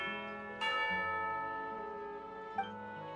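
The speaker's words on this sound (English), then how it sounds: "You hear the sound of a bell?" A bell rings for tea time in Genshin Impact, clear resonant chimes with long ringing overtones, one struck stroke sustained and decaying before a second softer strike near the end.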